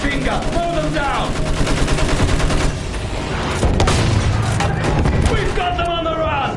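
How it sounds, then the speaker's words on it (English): Machine guns rattle in the World War I shooter Battlefield 1, firing in rapid continuous bursts with occasional booms, while voices shout over the fighting. "Use that machine gun! Mow them down!"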